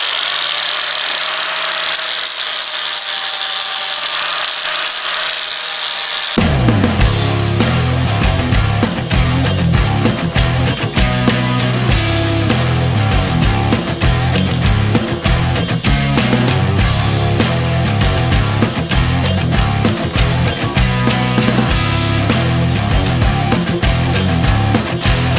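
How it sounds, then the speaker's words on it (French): An angle grinder stripping rust from a van's axle brackets starts after a quieter hum, then runs loud and nonstop as a harsh, rough grinding roar with rattling and chattering against the metal. "Mais là je vais prendre directement la meuleuse."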